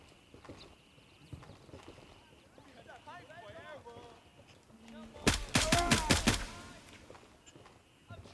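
Gunfire in the military shooter game Gray Zone Warfare: a loud, dense burst of rapid shots near the middle, following quieter clattering and scattered speech-like sounds.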